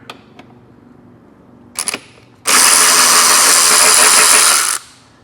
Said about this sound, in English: I got a T30 Torx driver.